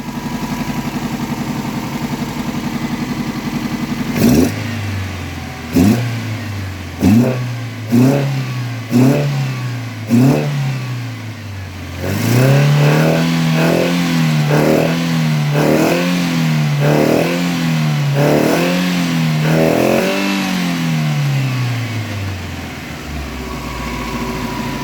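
A carbureted engine, newly freed of fuel leaks at its banjo fittings, is blipped in a string of sharp throttle revs, then held in a longer climbing rev before settling, loud and close with no talk.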